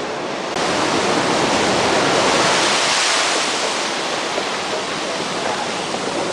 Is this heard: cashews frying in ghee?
no